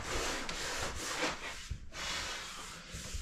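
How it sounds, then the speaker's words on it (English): Sandpaper rubs steadily by hand over the wooden hull of a boat being prepped for stain, a continuous close scratchy swishing with slight back-and-forth rhythm and no talking. "let's just start sanding"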